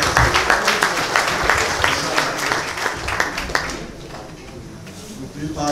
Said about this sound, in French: je demande qu'on applaudisse pour ces...